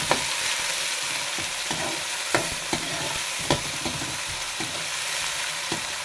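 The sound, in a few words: onions frying on a low flame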